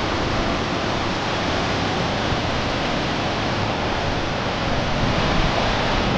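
Bomod-ok Falls in Sagada roars as a steady, loud, broadband rush of falling water, unbroken and close, with no voices over it.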